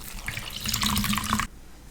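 Tap water runs steadily into a bathroom sink while a face mask is rinsed off, a close, splashing rush that stops abruptly partway through, leaving a quiet room tone.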